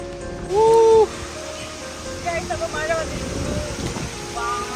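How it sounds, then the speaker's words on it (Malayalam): Steady rain hisses in the background while people talk over it, with a brief loud tonal whistle near the start. "ദേ മഴ പെയ്തു തുടങ്ങി ഞാൻ പറഞ്ഞ പോലെ മഴ താഴെ വന്നു"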